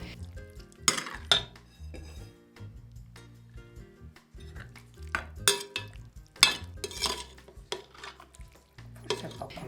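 Cooked malloreddus pasta is scooped into a serving bowl in a home kitchen, with clattering pots, clinking utensils and scraping across the clip, close and fairly loud, with no talking.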